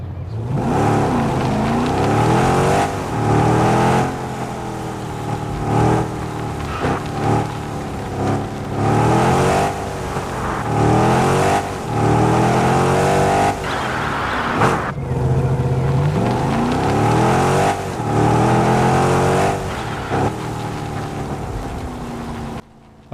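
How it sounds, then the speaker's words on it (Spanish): Chevrolet Camaro engine in the video game Car Parking Multiplayer 2, loud and close, revving repeatedly with rising and falling sweeps and brief dips between pulls. "ahí tienen el sonido del Camaro en el Car Parking Multiplayer 2"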